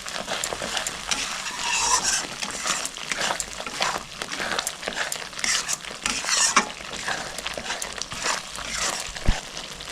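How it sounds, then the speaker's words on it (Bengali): Spices being stirred into a fish curry in a pan, turmeric and chili powder worked into a mustard and poppy-seed masala, with steady scraping and stirring over a soft sizzle, close and continuous with occasional utensil clinks. "8 চামচ হলুদ দিয়ে দিলাম আর 8 চামচ লঙ্কার গুঁড়ো দিয়ে ভালো করে মিক্স করে নিচ্ছি"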